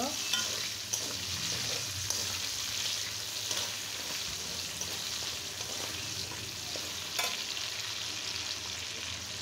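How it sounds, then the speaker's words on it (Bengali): Onions fry in oil in a wok, a continuous bright sizzle with occasional clicks and scrapes of a stirring spatula, close and steady with no talk. "আমি খুব সুন্দর করে পেঁয়াজটা ভেজে নেব"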